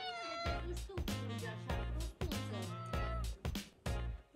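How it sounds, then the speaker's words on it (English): Small cats meow repeatedly in a Brașov street, with loud, drawn-out, overlapping cries coming in quick succession close by. "Look, everyone has these little cats."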